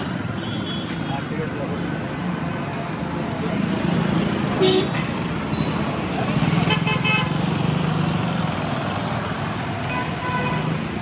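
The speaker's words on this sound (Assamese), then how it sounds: "এইটো ট্ৰাফিক জাম হৈছে বহুত।" Heavy city traffic jam on the way to Shilparamam Park, a dense roadway rumble of cars and motorbikes with short horn toots sounding around the middle and again near the end, and voices talking in the background.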